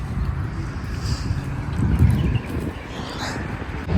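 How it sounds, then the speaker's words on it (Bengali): Strong, cold early-morning wind at dawn in Saudi Arabia, a steady low rushing and buffeting against the microphone that swells and eases over a few seconds, with no voices. "প্রচুর বাতাস,"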